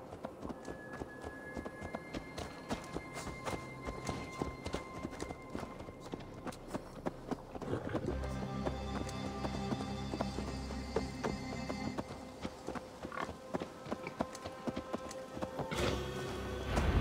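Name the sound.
horse hooves galloping, Assassin's Creed Valhalla video game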